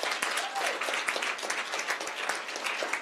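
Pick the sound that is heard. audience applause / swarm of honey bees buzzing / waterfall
audience applause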